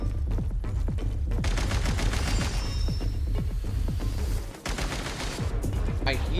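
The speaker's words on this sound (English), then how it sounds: "I hear gunfire." Dense gunfire and explosive blasts from combat in the Genshin Impact video game, with grenade launcher fire among rapid repeated shots filling the whole stretch, loud and close, broken by a brief dip near the end.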